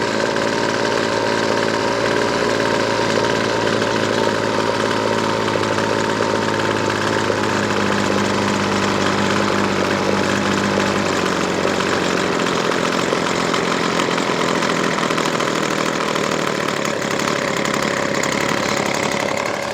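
Weed Eater Feather SST25 string trimmer engine idling steadily with a continuous buzzing drone that holds loud and unbroken throughout, slight shift in tone midway, no talking.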